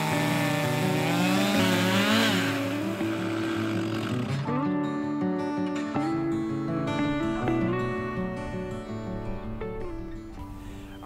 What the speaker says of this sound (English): let me get the chainsaw ready and get this this last slab milled up.